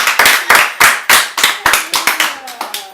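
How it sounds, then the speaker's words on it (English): A round of applause from a small group at a talk-show taping, about ten sharp, evenly spaced claps over three seconds, close and loud, slowing slightly at the end. "Everybody give her a round of applause real quick."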